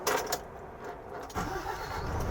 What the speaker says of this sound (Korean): 제가 시동을 한번 켜보겠습니다